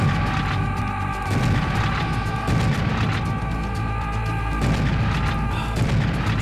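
Shotgun blasts and exploding bombs in Serious Sam HD make a constant loud barrage of booms and bursts over a droning game soundtrack, with no pause.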